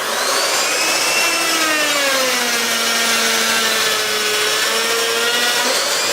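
A power saw runs steadily through a clamped workpiece, its loud whine sliding gradually lower in pitch and then back up as the cut progresses, with no voices over it.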